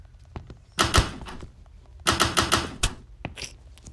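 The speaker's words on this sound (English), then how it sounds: "Look at the door being locked for no reason." Locked door in a horror video game rattling against its frame, with two bursts of loud clattering knocks followed by a couple of lighter thuds, close and without any talk.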